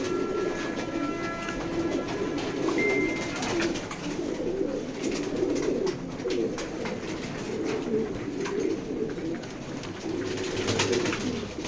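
Checker pied racing pigeons coo in repeated soft, throaty bursts at close range inside a loft, the calls pulsing steadily over a faint background hum.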